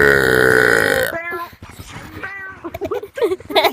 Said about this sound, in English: I will burp as loud as possible if you do, guys.